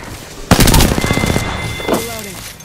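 A burst of gunfire from the Apex Legends video game, a loud rapid volley of shots followed by a second smaller report, with game sounds trailing off.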